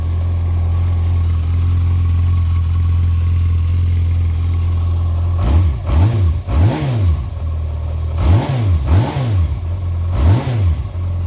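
A 1992 Yamaha XJ600 Seca II motorcycle engine idles steadily nearby, then gets several sharp throttle blips in quick succession, each rev rising and falling back to idle. No one speaks.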